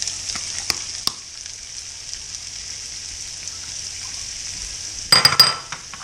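Butter and onion cook in a pan with a soft, steady hiss, joined by a few light utensil clinks early on and a short burst of clattering near the end.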